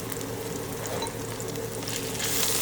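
Karela (bitter gourd) fry being stirred in a pan, a brief quiet sizzle with light spatula movements, no talking.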